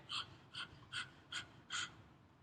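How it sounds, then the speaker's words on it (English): Breath-of-fire yoga breathing, done as dog-like panting with the tongue out: five quick, even breathy bursts, close and clear, with short pauses between them. "the breath of fire, which is panting like a dog but through your nose"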